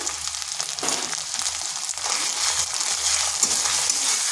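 Tomato and a pinch of salt frying in a pan with egg and eggplant: a steady, close hiss and sizzle that runs throughout, with faint stirring scrapes and no voices.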